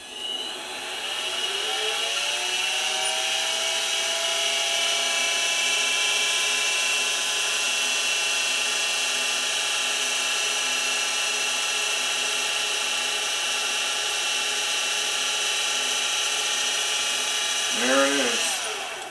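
A metal lathe beveling a part with a boring head, giving a steady high whirring drone throughout with a brief rising whine near the end.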